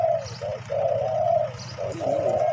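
Morning cooing from a spotted dove: several rounded, throaty notes that run together in a rolling phrase with brief gaps, close and distinct above a faint, steady low rumble.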